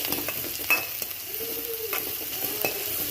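Egg rice frying in a pan and being stirred until browned, with a steady close sizzle and occasional scrapes of the utensil and no talk.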